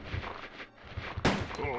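A single sharp gunshot from the original PS1 Resident Evil 2 rings out near the end, following a stretch of steady game background noise and music.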